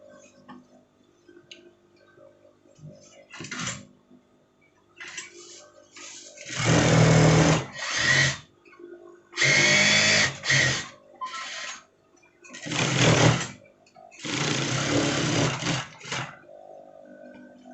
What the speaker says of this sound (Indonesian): Kita jahit pinggirnya ya.